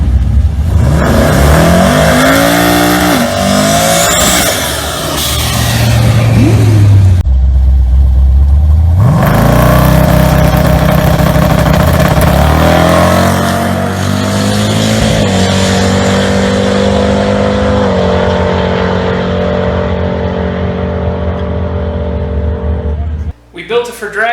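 A 936 hp 1981 Ford Fairmont station wagon drag car idling loudly and revving up close, engine note rising and settling in long steady stretches before cutting off abruptly near the end.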